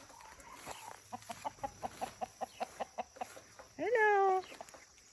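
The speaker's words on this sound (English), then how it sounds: "Here's one of my favorite roosters. He's a black Dorking rooster." A black Dorking rooster, a big bird, gives a run of steady, evenly spaced clucks close by, then a louder rising squawk, with faint outdoor farm background.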